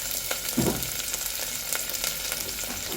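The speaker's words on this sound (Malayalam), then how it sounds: "ഈ സവാള ഒന്ന് ചെറുതായിട്ടൊന്ന് മൂത്ത് വന്നിട്ട് ഉള്ളി നല്ലോണം മൂത്തുന്നു." Onion frying in oil with cardamom pods and cinnamon for chicken kanji, a steady, even sizzle with a brief stir near the start and no talking.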